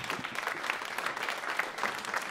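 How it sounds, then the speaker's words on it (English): Audience applause at a rap conference keynote, a steady, dense wash of clapping from a large crowd lasting the whole stretch without voices on top. "clap it up for that"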